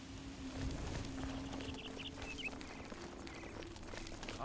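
Horse hooves clip-clopping at a steady walking pace in the Oblivion video game, a royal steed's footfalls moderately loud over a constant low ambient hum.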